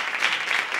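Steady applause from a church congregation fills the whole moment, dense and even with no voices standing out.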